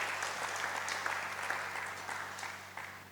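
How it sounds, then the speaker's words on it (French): A church congregation claps together during a sermon, a steady wash of applause that slowly fades over a few seconds, with a low electrical hum underneath. "Est-ce qu'on peut applaudir la parole du Seigneur?"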